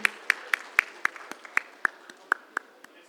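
Audience at a startup founders' event in Chandigarh clapping in steady unison: about a dozen crisp, evenly spaced claps roughly four per second, close and distinct, with faint low chatter between beats.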